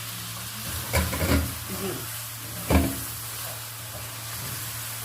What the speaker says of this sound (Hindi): कलेजी के गलने तक मीडियम हीट पे इसको पकाएंगे